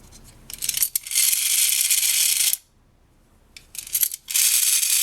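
A small wind-up mechanism in a vintage Japanese tin 1947 Studebaker sedan toy car whirs close by in two buzzing bursts, with a brief silent pause between them.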